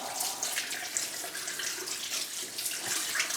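Hands rinsed under a running kitchen tap, a steady close splash of water spattering into a sink for a few seconds, with no talking.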